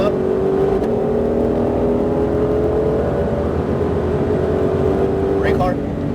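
A Ford Mustang Shelby GT500 engine roars loudly from inside the car on a racetrack at Exotics Racing in Las Vegas, its pitch climbing steadily as revs build, with a voice speaking briefly over it.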